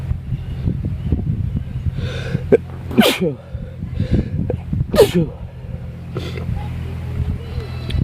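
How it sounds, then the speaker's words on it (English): Two loud, close sneezes burst out a couple of seconds apart, with sniffing and breathy noises around them. "I'm about to sneeze."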